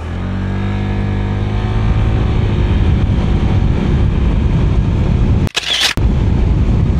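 A stock Honda ADV 160 scooter at full throttle during a speed run, its engine droning loud and steady with a rising pitch, then a brief dip near the end as the throttle eases before resuming.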